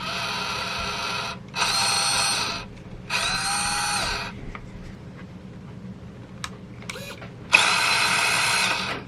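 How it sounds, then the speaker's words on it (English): An FMS FCX24 RC mini crawler with a two-speed transmission runs in short bursts, its high electric motor and gear whine starting and stopping several times, with faint clicks and ticks in the pauses. "Here's what the vehicle sounds like."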